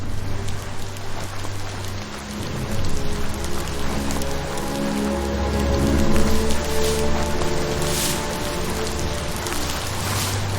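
Rain in the video game Biomutant falls steadily as a dense patter on surfaces, growing a little heavier midway, with a faint low rumble and occasional mechanical ticks underneath.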